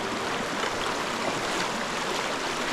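Red Creek in the Dolly Sods backcountry runs over algae-covered, slippery rocks, a steady close rush and babble of water that fills the whole stretch with no talking.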